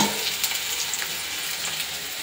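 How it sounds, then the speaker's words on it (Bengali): Food frying in a pan in a home kitchen, a steady hiss of sizzling oil running continuously and close, with faint clinks and stirring scrapes on top and no voices. "এখন ভাজাটা করে নিয়ে আগে"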